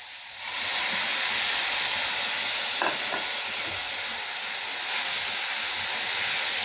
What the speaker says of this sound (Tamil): தண்டு போட்டுட்டு நல்லா இப்படி வதக்கணுங்க.